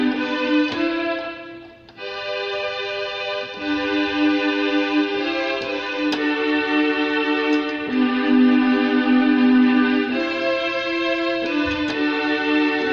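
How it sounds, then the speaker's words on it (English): Keyboard strings voice, preset number 54, holding sustained harmonic chords that change every couple of seconds, played alone at steady volume with a short dip near two seconds. "so our strings sound like this."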